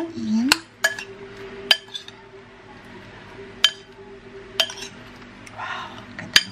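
Spoon clinking against a bowl while okra salad with salted egg and onion leaves is stirred, several sharp separate clinks at an uneven pace, fairly close, with a faint kitchen background.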